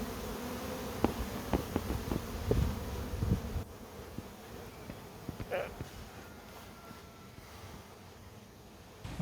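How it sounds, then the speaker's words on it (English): A swarm of thousands of honeybees fills the air with a continuous, steady buzzing drone, with a few louder individual bees passing close by. "I filmed as thousands of bees filled the air completely."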